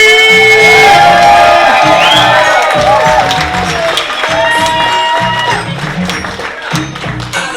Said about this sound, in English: Make some noise for Mario Reyes.